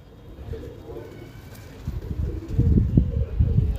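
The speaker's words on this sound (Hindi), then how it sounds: "ये इंतहा का आइडियल कबूतर" Domestic pigeons, a fancy show breed, coo close by with soft low throaty calls that build and repeat toward the end, over faint background noise.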